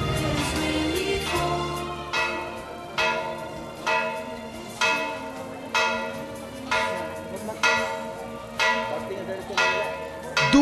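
Church bells in Cebu ring out for Pope Francis's arrival: a steady run of evenly spaced strikes, roughly one per second, each ringing on and overlapping the next, loud and close.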